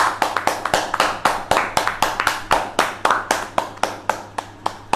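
Crisp, evenly spaced hand claps ring out for award winners at an online public speaking competition results event, close and loud, about three claps per second from only a few hands, with no talk.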